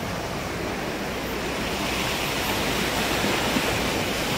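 Water rushes steadily down a hillside on a rainy-season trip to Kanthalloor village, a loud, continuous close roar with no talk.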